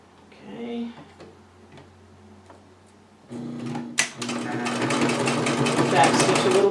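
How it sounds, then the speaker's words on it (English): A sewing machine stitches fabric for a face mask, running over pins: quiet talk and a few clicks first, then a sharp clack and a steady, loud whirring run of rapid stitching. "I'm going to be sewing over pins"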